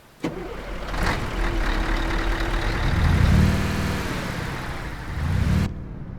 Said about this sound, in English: let me just hear the engine sounds